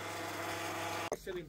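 A FlushTech diesel fuel tank cleaning machine runs with a steady mechanical hum for about a second before cutting off abruptly. A voice speaks briefly after it stops.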